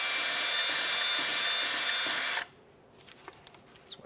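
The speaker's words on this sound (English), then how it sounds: "Use a bore brush for the threaded area." A bore brush scrubs the threaded area of a Chevrolet Trailblazer steering rack, a loud, close, continuous bristly rasping that cuts off abruptly, followed by quiet with a few faint clicks and handling noises.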